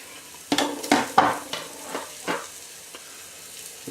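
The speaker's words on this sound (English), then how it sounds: "Okay, so the burger's cooking through nicely." A burger patty sizzles in a pan with a steady hiss, while a few close scrapes and clanks of a spatula and pan cut through in the first half.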